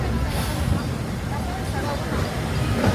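A Magic Kingdom park train at Walt Disney World pulls out of Main Street Station with a steady, low rumble and rolling clatter, close and continuous, while voices murmur in the background.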